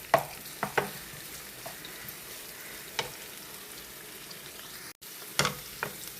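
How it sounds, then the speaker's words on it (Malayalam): Sliced onion sizzles steadily in a pan, a constant close crackle with sharp intermittent scrapes and taps of a spoon stirring it, and a brief pause near the end. "സവാള നല്ല പോലെ ഒന്ന് വഴന്ന് വരട്ടെ. അതോടെ നമുക്കൊന്ന് ഇളക്കി കൊടുക്കാം."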